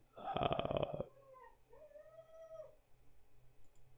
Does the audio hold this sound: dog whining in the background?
yes